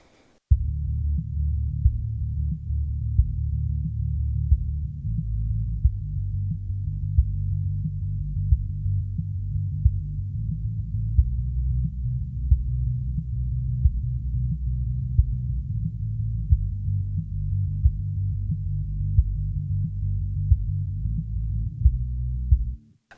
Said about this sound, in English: let's just solo our low end and see what exactly is going on